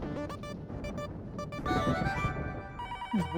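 Telephone ringtone in an Indian TV comedy scene, a loud electronic ringing pattern of repeated tones over background music, with a brief swooping sound at the end.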